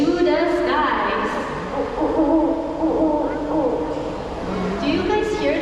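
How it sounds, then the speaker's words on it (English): Owl hooting in a nighttime animal show at a Singapore night safari, repeated calls rising over steady background music and crowd noise, with a voice speaking nearby. "Do you guys hear that? That's right, that's an owl."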